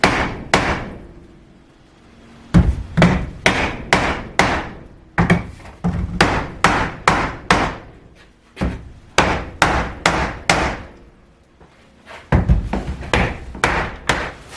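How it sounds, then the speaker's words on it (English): A hammer strikes a block of wood held against an old window frame, in close, loud bursts of four to six sharp knocks each, separated by short pauses. "with the hammer kind of hit it a few times"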